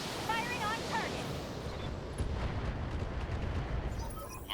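Mech weapons firing on a target in the BattleTech game, a dull rumbling barrage of booms and blasts under radio chatter and game sound effects.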